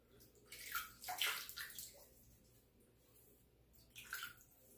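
Water splashing faintly as hands cup it to wet the face before a shave, a few soft splashes and drips in a quiet room.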